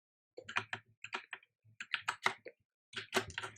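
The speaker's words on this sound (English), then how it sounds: "I'm just going to go ahead and type in localhost for 5000." Quick bursts of clicking keystrokes on a computer keyboard, close and fairly quiet, in three short flurries separated by brief pauses, with no talk.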